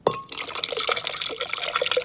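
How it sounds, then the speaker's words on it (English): Homemade almond milk pours in a steady, splashing stream close by, running continuously for a couple of seconds. "So now I'm going to pour."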